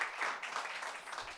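Applause at a celebration of students' CA Foundation exam results: a short, moderately faint burst of clapping from a group, steady and dense throughout, with no speech over it.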